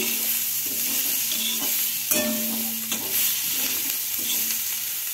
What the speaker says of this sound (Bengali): তারপর দিয়েছি টমেটো, আর সবজিগুলো দিয়েছি হচ্ছে শিম আর পেঁয়াজ কুলি দিয়েছি, দিয়ে একটু নেড়ে চেড়ে নিচ্ছি।